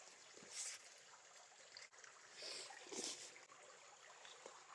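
A river flows somewhere outdoors, giving a soft, steady rush of moving water with faint trickling and a few higher splashes, fairly quiet and distant.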